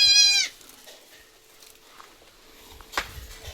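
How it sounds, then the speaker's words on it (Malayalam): Young goat kids for sale on a farm bleat once loudly and close at the start, then the scene goes quiet except for faint shuffling and a brief sharp sound near the end. "വളർത്താൻ പറ്റിയ 7 ആടുകുട്ടികൾ."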